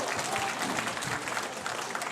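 Audience applause fills a Lions Club gala evening, a dense, steady wash of many hands clapping from a crowd at moderate level across the whole stretch.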